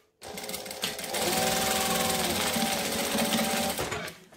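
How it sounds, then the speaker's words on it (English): A sewing machine back stitching through fabric runs in a steady rapid whir for about three seconds, close and loud, then slows and stops. "I'm also back stitching at both ends to lock the stitches in so they don't come undone later"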